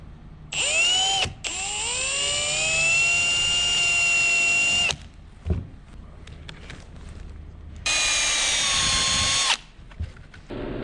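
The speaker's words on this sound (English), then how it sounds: "That's actually a relieving grinder." A handheld power grinder whines up to speed and runs loudly for several seconds, stops, then runs again briefly at a higher pitch.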